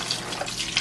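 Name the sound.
pouring 32-ounce chicken broth into cabbage soup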